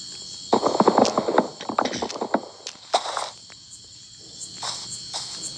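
Horse in Minecraft, a series of hoof clip-clops and movement sounds, bunched at first and then scattered, over a steady background of insect-like chirping in the game world.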